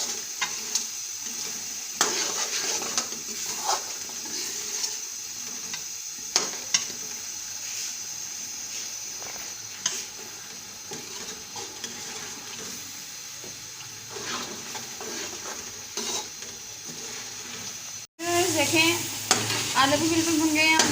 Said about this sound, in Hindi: और इनको अच्छे तरीके से अब हम भून लेंगे।